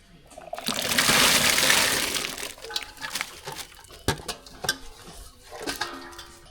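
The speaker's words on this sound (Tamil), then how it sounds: "மரவள்ளி கிழங்கு வெங்காயம் பச்சை மிளகாய் இது எல்லாத்தையும் நல்லா வெந்நீரில் கொட்டி வேக வச்சுக்கலாம்" Cassava, onion and green chilli are tipped into a pot of boiling water with a loud, sustained splash and pour. It is followed by a few sharp clinks and knocks of a utensil against the pot, with no talk.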